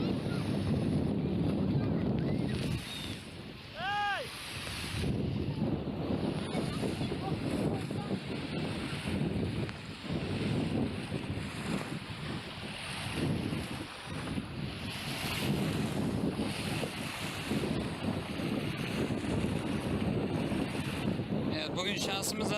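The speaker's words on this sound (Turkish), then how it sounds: "Bugün şansımıza rüzgarlı güne denk geldik." Strong wind roars across the microphone with waves washing onto the shallow, sandy shore of Issyk-Kul lake at Ak-Döbö beach on a blustery day. The rush stays loud and continuous, with a brief tonal chirp near the start.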